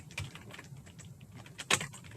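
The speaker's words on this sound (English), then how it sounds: "I'm going to go all the way down here to the bottom of my styles sheet, and I'm going to type" Computer keyboard typing while editing a stylesheet: a few scattered, fairly quiet key clicks with one louder clack near the end, no talking.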